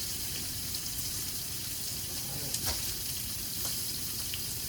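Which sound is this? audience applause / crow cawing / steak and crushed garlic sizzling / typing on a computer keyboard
steak and crushed garlic sizzling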